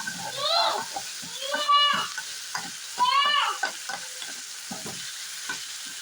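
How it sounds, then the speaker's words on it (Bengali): Dried fish with chopped coriander frying in a pan makes a sizzle with a few louder bursts and scraping stirs, and quiet talking can be heard under it at times. "দেখো তেমন ভালো ভাজা হয়নি আর একটু ভাজা হবে লাল হবে"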